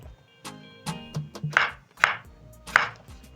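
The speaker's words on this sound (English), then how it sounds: "While chopping the potatoes, make sure to cut the potatoes the same size" Potatoes being chopped with a knife, heard as about seven crisp, close chops against a cutting board in an uneven rhythm, with no talking.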